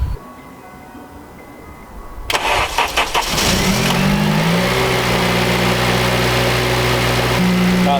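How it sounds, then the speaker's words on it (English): A car engine, just back from an exhaust heat shield repair, cranks briefly, catches and starts, then settles into a loud, steady idle as it warms up close by. "So let's fire it up, get a test run, let it warm up and see if the sound is reoccurring."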